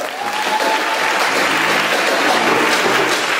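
Church congregation applauding together during a worship service, a steady, dense wash of clapping hands that holds throughout.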